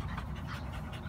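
Rapid, steady panting from a black dog about six months old, close and continuous with no talking.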